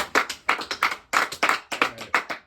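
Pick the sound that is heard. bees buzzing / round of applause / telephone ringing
round of applause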